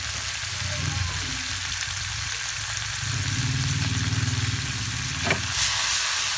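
Onions sizzle and caramelize in a hot pan for a duck dish, a steady, close frying hiss that runs throughout with a few soft stirring bumps near the end.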